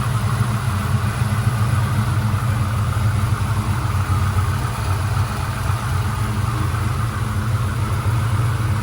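A Callaway SuperNatural Impala SS V8 idles steadily and close by, with a deep, even rumble and no other noise.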